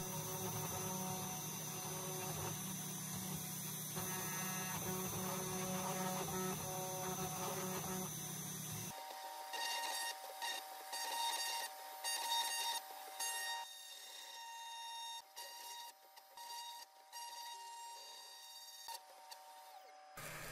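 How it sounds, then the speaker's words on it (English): Comgrow Robo desktop CNC router engraves an acrylic plate, a steady motor hum with a grinding cutting tone that later thins into a higher whine with stepping changes, faint and continuous. "I will jog the machine to the center of the acrylic plate and start the same G-code file."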